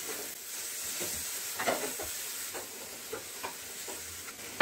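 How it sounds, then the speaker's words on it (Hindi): Tomatoes cooking in a pan for a paneer sabzi give a soft, steady sizzle and hiss, with a few faint stirring clicks over it. "देखिए, करीब 2 मिनट हो गए हमारे टमाटर को पकते हुए।"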